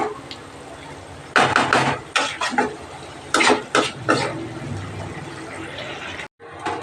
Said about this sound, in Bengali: এবার আমি এই যে মশলার বাটিটা ধুয়ে এই জলটা দিয়ে দেবো